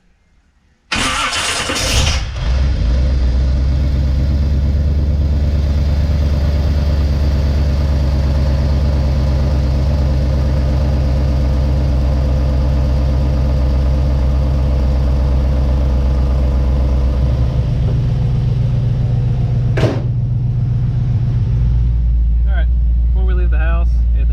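A small block Chevy engine with a history of low oil pressure cranks briefly and then catches with a loud roar. It settles into a steady, deep idle that rumbles on for about twenty seconds, with a slight shift in tone near the end.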